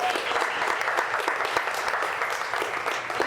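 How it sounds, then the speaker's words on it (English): An audience applauds Lori Richardson at a sales talk, a dense, even wash of many hands clapping at moderate volume, holding steady the whole time with no voices over it. "Let's give a round of applause to Lori Richardson."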